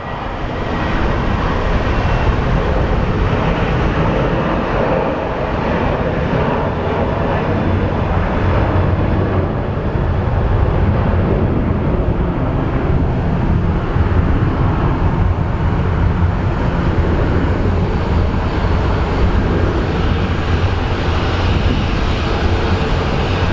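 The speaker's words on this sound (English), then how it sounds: "we usually get our heavy rotation of Southwest planes departing" Southwest jets departing Phoenix Sky Harbor airport in hot weather, a steady loud broadband jet engine roar that holds for the whole stretch with no talk.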